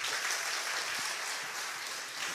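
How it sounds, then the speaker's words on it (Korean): A congregation applauding during a worship service, a dense, even roar of many hands clapping at once, moderately distant and steady from start to finish. "우리 하나님께 박수하시겠습니다"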